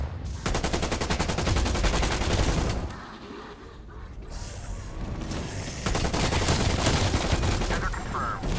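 Gunfire in the video game Call of Duty Black Ops Cold War: loud, fast, sustained automatic bursts with a short lull in the middle, then more rapid firing, with in-game voices over the action.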